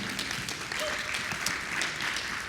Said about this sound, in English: People are clapping for you if you can't hear mom and dad.